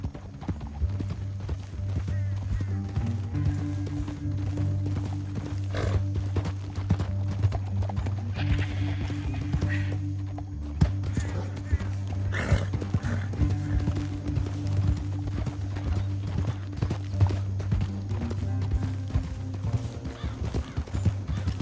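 Horses in Red Dead Redemption 2 galloping steadily across a canyon trail, with continuous rhythmic hoofbeats, occasional neighs and jingling tack, loud and close throughout with no speech.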